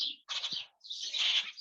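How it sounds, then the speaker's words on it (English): Tiny baby birds in incubators at a bird sanctuary give high, thin chirping calls, two close bursts of shrill peeping with a brief gap between. "So we have teeny tiny little birds."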